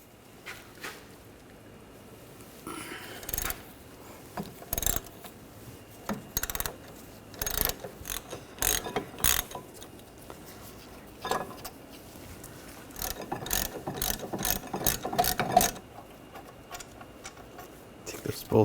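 A hand ratchet with a 13mm socket works the brake caliper bracket bolts on a 2013–2019 Ford Escape during a rear wheel bearing and hub job, giving irregular clusters of sharp clicks and clacks close by in a quiet garage.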